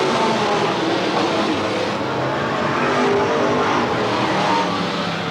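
Race cars roar around Willamette Speedway in a dense, continuous wash of engine noise that stays loud and steady throughout, with no clear gaps.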